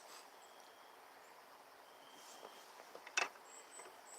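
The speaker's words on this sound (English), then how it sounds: "I'm starting to hear the crickets." Faint crickets chirp outdoors at dusk, thin high tones drifting in and out over a quiet background with a brief louder rustle near the end.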